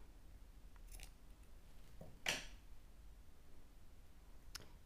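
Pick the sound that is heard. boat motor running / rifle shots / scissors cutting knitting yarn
scissors cutting knitting yarn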